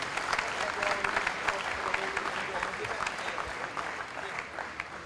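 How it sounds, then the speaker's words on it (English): A crowd applauds steadily, dense clapping from many hands that continues evenly throughout without a break. "Let's give them a nice round of applause."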